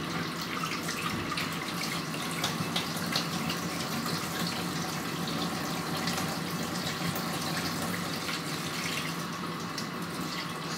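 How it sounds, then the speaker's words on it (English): Water running through a hose into a tank for washing reels of developed 120 black and white film in a kitchen, a steady close splashing flow that stays even throughout with no speech. "It's a long tank that you put your reels in, and has a hose going into the bottom, running water through it."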